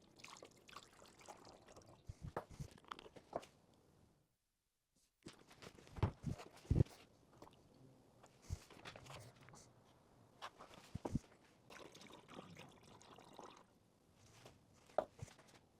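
Distilled water and antifreeze mix poured into the tank of an xTool P2 laser cutter, faint intermittent trickles and drips with handling clunks and a brief silent gap, recorded close and quiet.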